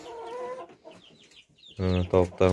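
A white rooster and year-old hens in a chicken coop cluck in short bursts, faint at first, then louder with several strong, harmonic calls near the end, and a human voice is faintly mixed in.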